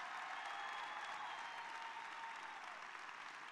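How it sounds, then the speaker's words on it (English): A church congregation gives a round of applause, with steady, dense clapping that is fairly faint and distant and continues without break. "So can we just give everybody another round of applause?"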